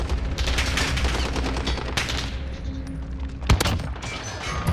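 A Rytec AMR .50 cal rifle in Modern Warfare fires amid dense battle noise, with a rapid barrage of blasts, one sharp loud crack near the end, and steady rumbling underneath.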